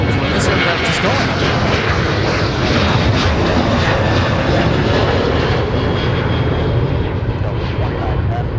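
A Delta airliner departs Minneapolis–Saint Paul airport, its engines a steady broadband roar that holds strong for the whole stretch with no clear rise or fade.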